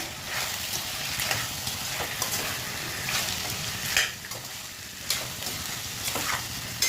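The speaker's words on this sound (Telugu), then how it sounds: "ఒక 2 మినిట్స్ ఫ్రై చేయండి. చికెన్ చూడండి బాగా వేగింది." Chicken frying in a pan for Andhra-style gongura chicken gives a continuous close sizzle, broken by periodic scraping stir strokes.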